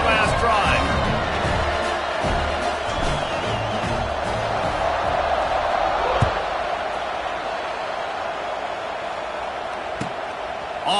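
A stadium crowd at a college football game, Washington against Oklahoma, roars in a dense, sustained wall of cheering and whooping, with a few sharp thuds rising over the din.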